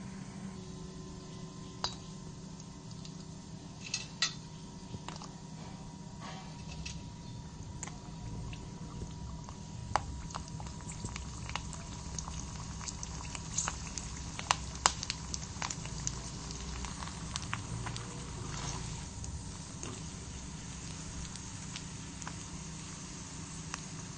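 Quiet, steady crackle and bubbling of sabudana potato chakli deep-frying in hot oil, with scattered sharp clinks and pops over a constant low hiss for the whole stretch.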